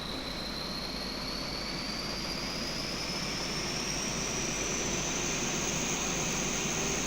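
Dash 8 auxiliary power unit spooling up in the Prepar3D flight simulator, a steady loud turbine roar with a high whine that climbs slowly in pitch across the stretch.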